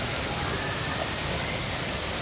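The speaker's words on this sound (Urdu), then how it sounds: "فل بارش ہے جی، فل پانی ہے" Heavy monsoon rain pours down steadily as water comes into a house, a dense, loud, continuous wash of rushing and splashing water with no pauses.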